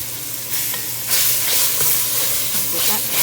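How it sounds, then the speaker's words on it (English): A pound of ground beef sizzles steadily in a pot, a continuous bright hiss with occasional louder crackles and spoon scrapes, close and loud with no talking. "just going to put a whole pound of ground beef in there and cook it together"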